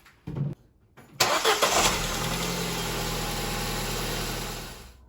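A Ford Ka engine cranks with a quick starter whir, catches and settles into a steady idle, heard close in a home garage after a couple of brief clicks.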